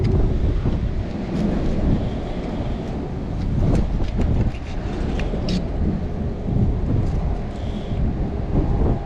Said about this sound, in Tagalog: Malakas po yung hangin.